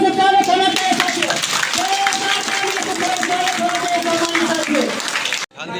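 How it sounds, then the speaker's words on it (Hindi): A crowd applauds to welcome guests at a political party workers' meeting in Shravasti, sustained clapping with voices and a tonal sound running beneath it, then a sudden cut near the end. "मैं चाहता हूँ जोरदार तालियों से स्वागत होना चाहिए साथियों।"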